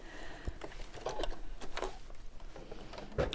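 A sewing machine stitches close to the edge of fabric, running in faint, uneven bursts with soft clicks and mechanical whirring, quiet and near, with no talking.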